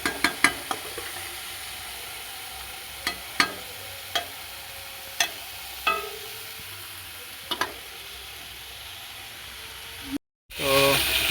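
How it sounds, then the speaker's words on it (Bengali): Noodle ingredients fry in a pan with a soft continuous sizzle, punctuated by sharp spatula taps and scrapes at irregular intervals, then a brief cut near the end. "তো এবার ভালো করে সব ভেজে নিচ্ছে।"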